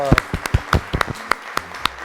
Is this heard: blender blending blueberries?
no